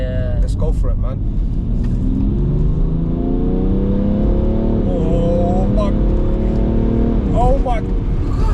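A 2014 BMW 335d xDrive Touring F31 diesel estate with a Stage 1 tune accelerating hard from inside, a loud deep engine drone rising in pitch through quick gear shifts while people talk over it.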